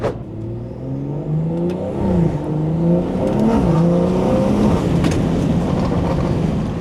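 A BMW 340i's B58 engine revs and climbs through several gears, the pitch rising and dropping with each shift as it accelerates nearby.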